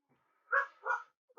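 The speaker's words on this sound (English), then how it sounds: "sorry if you hear my dog barking" A dog barks twice in quick succession, fairly faint and somewhat distant, with the start of a third bark cut off at the end.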